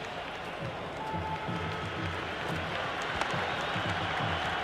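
A crowd applauds and cheers steadily in the Cricket 26 video game, a broad wash of clapping and murmur that stays level throughout with a faint commentary voice beneath.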